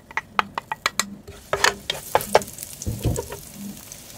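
Garlic frying in cooking oil in a frying pan, sharp close clicks and taps of stirring at first, then a steady crackling sizzle with scraping and knocks, alone without talk.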